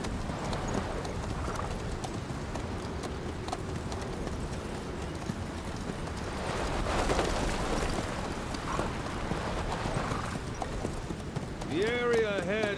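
Horse hooves clip-clop steadily in Metal Gear Solid V: The Phantom Pain, a continuous trotting rhythm heard alongside game voices and ambient noise.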